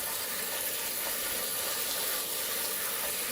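Tap water runs steadily into a sink while chickpeas are rinsed, a constant broadband rushing hiss at moderate level with no voices.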